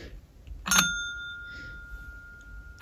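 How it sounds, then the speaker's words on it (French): A single clear ding from a small dog training bell rings out and its metallic tone lingers, fading slowly in a quiet space. "C'est une petite sonnette pour dresser les chiens je crois."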